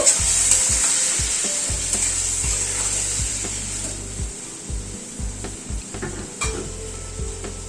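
Spice masala with turmeric and a splash of water sautéing in a pan over medium flame, a bright continuous sizzle with repeated spatula scrapes and knocks against the pan, no talking.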